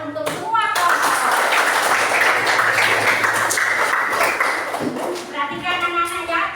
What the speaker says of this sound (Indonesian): Kita tepuk tangan untuk semua kelompok.